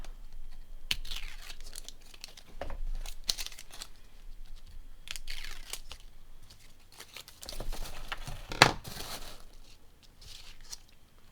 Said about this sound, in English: I like to use my a vinyl weeding tool to pull these off